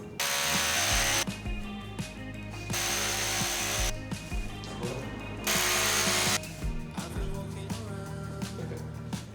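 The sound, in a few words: power drill with masonry bit drilling into wall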